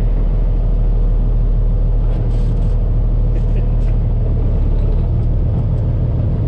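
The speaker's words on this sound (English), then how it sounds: "Oh, someone's coming. Oh, it's our fancy truck." A truck approaches in a trucking yard, its low heavy engine rumble steady and loud throughout, with faint higher clanks and hisses over it and no talk.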